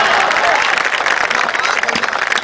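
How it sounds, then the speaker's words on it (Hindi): An audience at a Hindi kavi sammelan poetry gathering at Mahishmati Ghat in Mandla claps in a loud, dense burst of applause that fills the whole moment with no pause. "मुझे आपसे इतनी ताली की भी उम्मीद नहीं थी जितनी आपने बजाई।"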